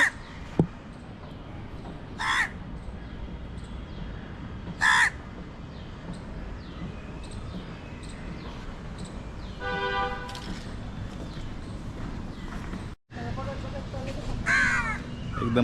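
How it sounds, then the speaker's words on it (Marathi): Crows caw several times in short, separated bursts along a forest walkway in Malabar Hill, Mumbai, some near and some farther off, over steady outdoor ambience with a brief horn-like tone in between. "कावळ्यांचा आवाज लय येतोय."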